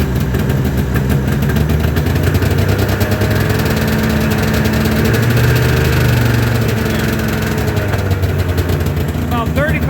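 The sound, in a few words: tracked vehicle engine revving until clutch engages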